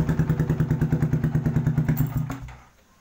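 Yamaha R15 V2 motorcycle fitted with a racing exhaust, revving in a rapid pulsing throb close by, then cutting off and settling as the engine note dies away.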